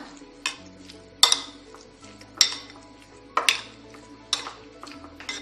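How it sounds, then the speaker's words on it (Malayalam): Beetroot pachadi curry stirred in a pan, with a series of sharp metallic clinks and scrapes of a spoon against the pan, about six distinct strikes at irregular intervals, close and without talk. "നന്നായി ഇളക്കി ചേർത്ത് കൊടുക്കുക"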